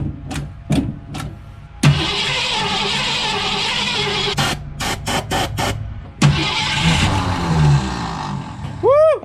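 A 1964 Ford Falcon engine, dormant for 15 years with a new fuel pump and filter, cranks in long sustained bursts with short clicks between, sputtering close by without catching, as people talk over it.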